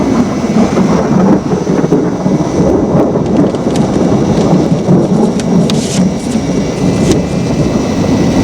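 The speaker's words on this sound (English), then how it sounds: "is this storm likely to get any worse?" A thunderstorm pours down heavy, steady rain with rolling thunder beneath it, loud and continuous throughout, no voices.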